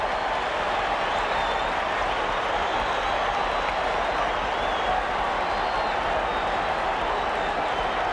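A 1978 World Series crowd at Dodgers vs. Yankees in the ninth inning roars and applauds continuously, a loud, dense stadium wash with no break across the whole stretch.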